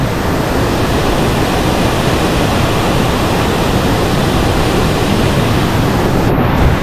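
A steady, loud roar of rushing water fills the whole clip, like a waterfall heard up close, with no voices; Lubong Nangoluan Falls in San Felipe, Zambales, Philippines.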